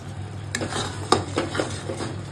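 A dried fish mixture being stirred in a pan over a raised flame, with soft scraping and light metallic clinks from the spoon over a faint low sizzle; no one speaks.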